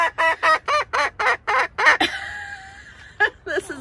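A young Silkie hen on a homestead calls out in a rapid series of about seven loud, evenly spaced squawks, followed by a drawn-out softer note and a couple of closing chirps, close up.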